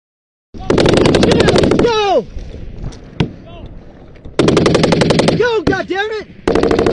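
Machine gun fire during a live battle between US Army troops and the Taliban, loud sustained bursts of rapid shots broken by short gaps, with shouting voices and echoing sounds between the volleys.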